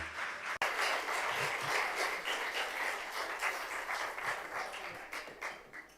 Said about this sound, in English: Big round of applause for Ilke.